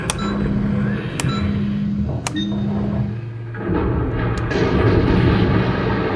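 A giant robot mech powering up in the video game Steel Battalion, a dense mechanical hum with low engine drone and sharp metallic clicks, shifting into a louder whirring rumble partway through, with no talk.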